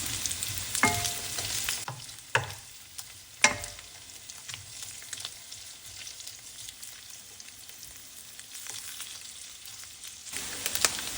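Ingredients for palak paneer frying in a pan, a steady soft sizzle with a few sharp clatters of stirring near the start, alone without talk.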